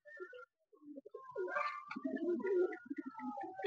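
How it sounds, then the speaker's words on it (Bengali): Pigeons coo on a rooftop loft, several low throaty coos rolling together up close and fairly steady, with brief higher bird chirps mixed in. "পায়রার বাচ্চা আছে"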